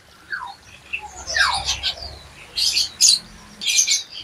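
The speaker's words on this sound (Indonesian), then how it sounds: "Patuk beras sudah rajin bunyi untuk hariannya ya" Java sparrow chirping up close, a series of short bright tweets and trills in bursts with brief pauses, no voices.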